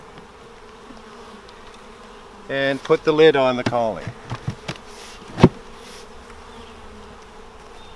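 A steady hum of honeybees from a nucleus colony buzzing in the background while a person speaks briefly, followed by a sharp knock.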